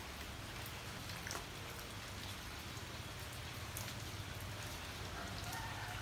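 Morning rain falls steadily at a house in Pakse, Champasak, Laos, a continuous, even patter of drops on surfaces with no voices.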